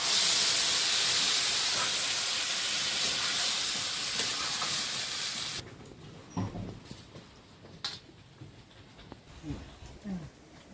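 Okra simmering with salt and turmeric after water is poured in gives a loud, steady steam hiss for about five seconds, then a quieter pan with scattered clinks and bubbling.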